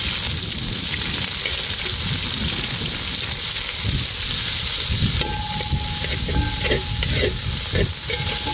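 Shallots and spices sizzle and fry in hot oil for avarakkai sambar, a steady close hiss and crackle with stirring scrapes throughout and a few brief tonal clinks near the end.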